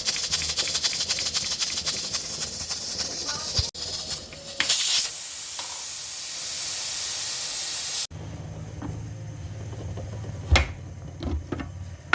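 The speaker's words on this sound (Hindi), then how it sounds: "प्रेशर को हम 7-8 सीटियां बजने तक छोड़ देते हैं" A pressure cooker cooking kari pakoray lets off a loud, steady hiss of steam that lasts a few seconds, framed by shorter hissing and clattering kitchen noises before and after.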